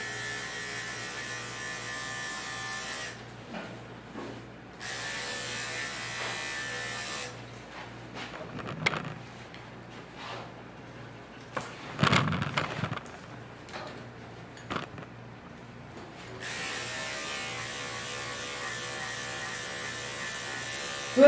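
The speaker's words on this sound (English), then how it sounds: "So I'm going to shave her tummy." Electric clippers buzz steadily while shaving the belly of an Australian Shepherd, with brief quiet gaps and some scraping and handling noises in the middle.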